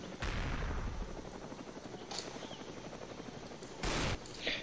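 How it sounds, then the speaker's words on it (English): The Cobra minigun in Mad City fires its shotgun spread over a steady engine-like drone, with sharp loud blasts at the start and again near the end and fainter shots in between. "Okay, activate the shotgun spread."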